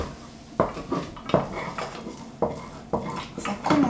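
Metal utensil scraping and knocking against a saucepan where food has stuck and nearly burned, a series of sharp clanks and grating scrapes in an irregular rhythm, close and fairly loud.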